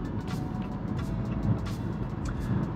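A 2023 Maserati Grecale Modena SUV drives along with a steady, close engine and road rumble, low tire and wind noise holding evenly throughout with no voices.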